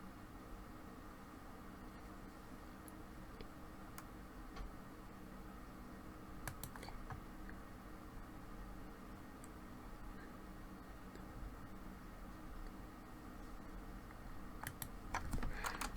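Quiet keystrokes on a computer keyboard while typing a file name, scattered soft clicks in short bursts over a faint steady hiss.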